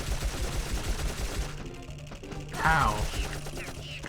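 Rapid gunfire from the video game Dark Cloud, shots striking a bat enemy, a dense rattling burst of repeated impacts with mechanical clicks and a short spoken exclamation over it.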